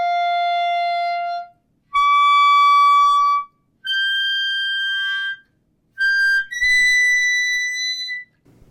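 A clarinet plays piercing altissimo tones, jumping upward between four or five sustained high notes on the same fingering by changing jaw pressure, each note held clearly with short breaths between.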